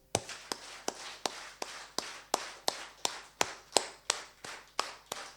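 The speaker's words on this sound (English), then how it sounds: "Let me hear you clap your hands." A live concert audience at a band's show in Sheffield claps hands together in a steady, evenly spaced beat, about fifteen sharp claps in a row, loud and close with no talking over them.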